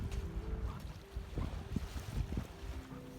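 A sailboat under sail at sea off Felixstowe Ferry in a light breeze, with low rumbling wind buffeting the microphone and soft water wash against the hull at about four knots.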